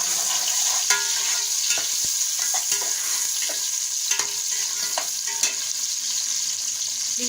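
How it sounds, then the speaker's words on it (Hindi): Onions fry in half a cup of ghee for browning, making a loud continuous hiss and sizzle with occasional light stirring clicks up close. "इसमें प्याज डाल देंगे ब्राउन करने"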